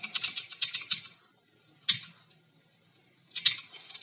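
Commands are typed on a computer keyboard while running a bash script on Linux Ubuntu: quick clusters of close, crisp key clicks separated by short pauses, with no talking.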